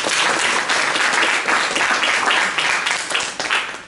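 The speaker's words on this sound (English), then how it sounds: "So Adam Elliott Cooper, give him a round of applause." An audience at a panel event on protest and policy breaks into dense, loud applause that holds strong, then thins out toward the end.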